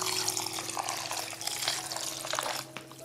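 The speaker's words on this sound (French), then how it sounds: "Maintenant, on ajoute un demi-litre d'eau." Half a litre of water poured into a flourless, yeast-free Swedish seed bread mixture, a steady continuous splashing stream lasting about three seconds with no talk.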